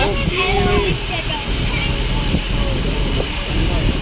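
A swollen, flooded river rushes past with a steady, loud, broad roar of churning water, while voices talk over it.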